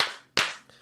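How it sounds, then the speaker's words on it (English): Two sharp, close hand claps land about a third of a second apart, crisp and bright, with no voice behind them. "Two claps"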